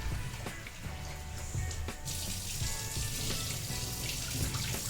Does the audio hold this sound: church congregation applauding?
no